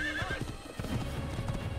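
Horse hooves clip-clop in the Assassin's Creed video game, a steady rhythm of close, fairly loud steps with a brief neigh near the start and no talking.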